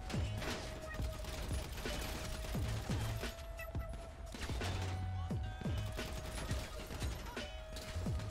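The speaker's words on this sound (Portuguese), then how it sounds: "A gente tá sendo recebido a tiro" Bursts of Grand Theft Auto V gunfire crackle in scattered volleys, some rapid and sharp, over a constant low hum, fairly quiet overall.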